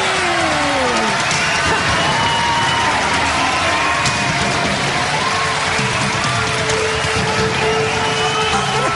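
A crowd cheers and applauds for the band in a continuous loud wash of clapping and shouting that holds steady throughout, with voices rising through it.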